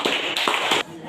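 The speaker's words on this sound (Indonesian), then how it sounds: "silakan beri tepuk tangan terlebih dahulu" A small classroom group claps briefly after a student presentation, a few quick bursts of hand claps close by that stop abruptly, with speech mixed in.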